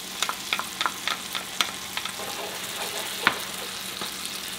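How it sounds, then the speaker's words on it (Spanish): Tomato sauce goes into a pan of frying tomatoes, and a gentle sizzle follows, broken by repeated light scraping and spoon taps, with a sharper clack partway through and no voices. "Ahora aquí vamos a agregar la salsa de tomate."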